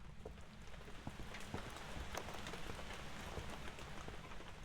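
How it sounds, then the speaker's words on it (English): Steady rain in the horror game Phasmophobia, a dense continuous patter of drops on surfaces with scattered sharper droplet hits, fairly loud and even throughout with no talking. "The rain is really loud."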